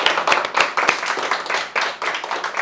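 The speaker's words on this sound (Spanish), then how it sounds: "un aplauso para mi César Villaluz" An audience claps for a guest at a talk-show interview, a lively burst of applause with a few sharp, close individual claps standing out over the broader patter.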